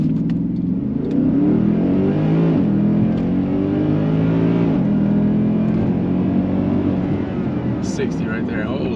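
Tuned Mercedes ML63 AMG SUV with a Stage 1 tune launching hard from a standstill with stability control off, engine roaring loud and steady as it pulls through the gears, with brief shift dips and a voice over it near the end.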